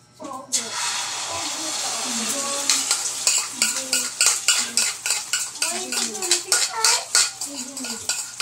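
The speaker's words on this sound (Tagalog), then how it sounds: "Baka matangyangan tayo ng mantika. Nakatalsik ang itlog." An egg frying in hot oil, a broad steady sizzle with sharp spattering pops and repeated utensil clinks against the pan, loud and close, with voices talking over it.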